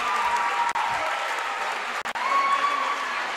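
A crowd at a girls' high school basketball game applauds a player who just reached a thousand career points, steady loud clapping filling the gym with a couple of brief dips.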